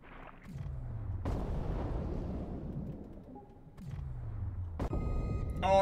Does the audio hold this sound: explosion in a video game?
yes